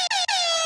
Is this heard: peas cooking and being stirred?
no